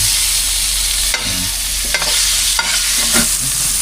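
Meat sautéing in hot oil in a pan for pancit: a steady, close sizzle with a few short scraping stirs of the utensil against the pan. No one talks.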